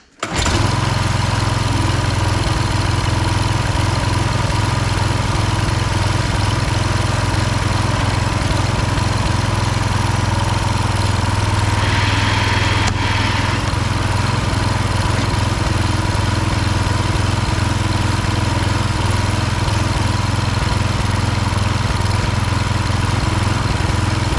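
A Husqvarna HU 625HWT trimmer engine starts right away and runs loud and steady nearby, holding a constant buzzing drone with a brief change in pitch near the middle.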